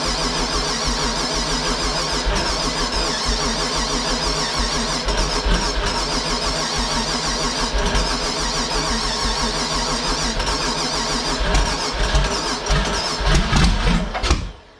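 An engine fitted with a Holley fuel system cranks steadily and loudly, its starter churning for about fourteen seconds, then catches briefly near the end with a rougher surge before dropping off.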